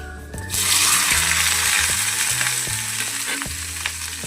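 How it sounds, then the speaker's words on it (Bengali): Okra frying in hot oil in a wok over tempered whole spices, with a loud continuous sizzle that bursts in as the vegetables hit the pan, plus repeated scraping and stirring knocks. "ভেন্ডিগুলো ভালো করে ভেজে নেবো।"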